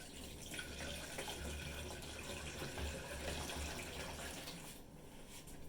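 Water runs steadily from a tap to rinse out a Thetford 365 Porta Potti portable toilet, a continuous close gushing splash that holds for several seconds with no talk.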